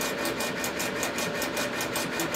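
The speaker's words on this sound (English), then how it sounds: "I have one Cloud Ray Infinity 6-inch inline fan" A Cloud Ray Infinity 6-inch inline fan pulls laser engraver fumes through ductwork, giving a steady, loud broadband whoosh with a faint pulsing flutter and constant tonal hum, unbroken by speech.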